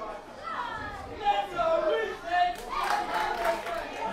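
Wrestling crowd at a live event, a dense wash of cheering, chatter and scattered clapping at a moderate distance, swelling midway, with a commentator's voice talking over it.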